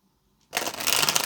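A deck of tarot cards is shuffled once, close up, in a quick riffling burst that lasts under a second after a brief quiet start.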